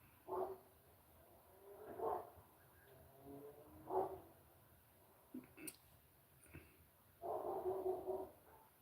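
A dog named in a live stream barks in several separate bursts spaced a second or two apart, moderately loud over a quiet room hum, with no talking.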